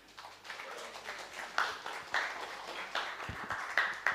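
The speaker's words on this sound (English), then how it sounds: "let's give another big round of applause to Alberto" Thin, scattered applause from a small audience at a decentralized AI talk, with individual claps popping out irregularly over a faint clapping texture, fairly quiet and distant.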